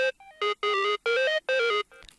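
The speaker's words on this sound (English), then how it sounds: "Game Boy lead. There's natural delay in this." A bright, square-toned Game Boy lead synth preset in Serum plays a short chiptune phrase of four sustained notes with built-in delay, clean and alone, ending in a brief noisy tail.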